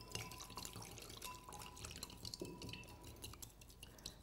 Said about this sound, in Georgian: კოლბაში გვაქვს მომზადებული ცალკე წყალი და დავასხათ მორევის პირობებში.